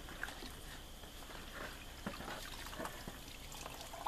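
Cotton shirts being wrung out of a black walnut dye solution, with liquid trickling and dripping steadily at close range under a constant wet background.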